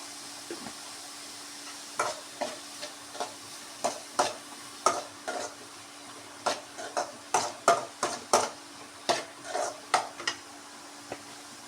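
Gobi (cauliflower) pieces frying in oil for dry gobi, a constant low sizzle under a run of sharp, close scraping and tapping stirs that come faster toward the end.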